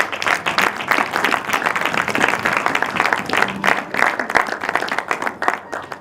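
A church congregation applauds and cheers together in acclaim of Jesus, dense sustained clapping filling the room for several seconds.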